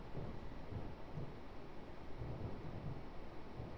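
Steady rain in a train simulator video game at a London station, a constant faint hiss with soft low rumbling, alone and unbroken.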